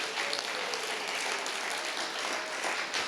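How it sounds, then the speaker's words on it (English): An audience applauds newly inducted honorees at a school hall of achievement ceremony, a dense, steady wash of many hands clapping that fills the room without pause. "Let's all stand and give them a round of applause"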